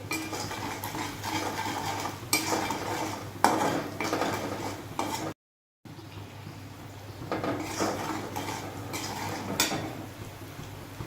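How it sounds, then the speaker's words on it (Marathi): A spoon scraping and clinking against a pan while turmeric and salt are stirred together, irregular metallic taps and scrapes close by, with a brief gap midway. "हळद, मीठ, हे सर्व व्यवस्थित मिक्स करायचं आहे"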